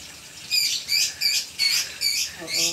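A small bird chirps in six quick, high-pitched bursts at a fairly regular pace, close by and with no talking.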